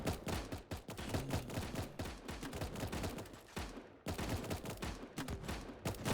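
Scar rifles blaze in a Roblox zombie tower-defense game, a dense, unbroken stream of rapid gunfire with a brief gap near the end before the shooting resumes just as loudly.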